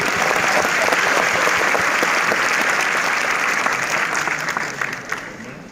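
Audience applause at a gathering, loud dense clapping from a crowd sustained throughout and tapering slightly at the end.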